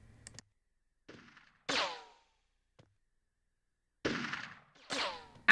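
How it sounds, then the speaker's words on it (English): Shotgun blasts from the Army Men: Sarge's Heroes video game, a few sharp separate shots with quiet gaps between them and no talking. "Trying to use a shotgun from all the way over there?"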